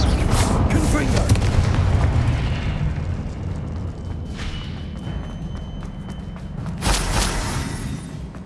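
The Confringo explosive spell blasts in the Hogwarts Legacy video game, a loud, sustained booming rumble with a second burst near the end, heavy and close, with a voice speaking over it.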